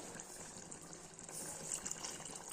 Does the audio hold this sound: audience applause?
no